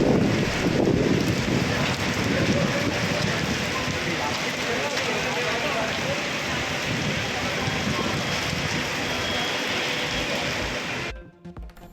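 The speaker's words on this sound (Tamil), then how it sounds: "கன்னியாகுமரி, கொட்டாரம், சுசீந்திரம், நாகர்கோவில் மற்றும் அதன் சுற்றுவட்டார பகுதிகளில் மிதமான மழை." Moderate rain falls in Kanyakumari district, a dense, even patter of drops and hiss on surfaces, loud and continuous for the whole stretch before cutting off abruptly near the end.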